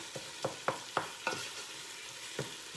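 A pork chop browns in oil in a frying pan with a soft sizzle, broken by a series of sharp, evenly spaced scraping taps, heard alone.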